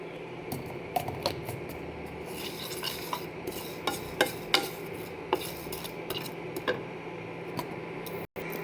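Whole fenugreek seeds are dry-roasted in a pan over medium-low heat, a spoon scraping and stirring with scattered light clicks and taps against the metal under a soft steady sizzle, no talking.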